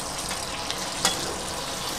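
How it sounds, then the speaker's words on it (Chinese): Fish pan-fries in a pan with a steady crackling sizzle, with a soft clink or two from a utensil partway through. "煎好一邊，先反另外一邊。"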